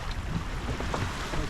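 Steady wind roars across a racing sailing yacht on the water near Liverpool, with heavy buffeting on the microphone and a constant wash of noise and no voices.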